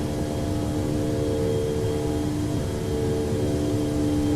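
DC-8-73F jet engines in a flight simulator, a steady loud roar with a sustained whine and broadband rush as thrust eases back, continuous and close with no speech.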